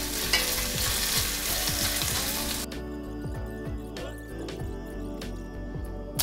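Sliced onion, one and a half onions cut into thin half-moons, fries in a pan with a loud, dense sizzle that drops sharply partway through, leaving quieter crackling and stirring scrapes.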